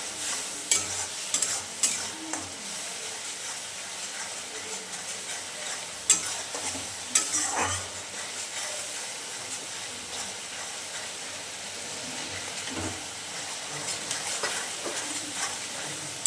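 Brinjal curry masala with tomatoes sautéing in a pan, a steady low sizzle with occasional stirring scrapes, close and continuous with no talk.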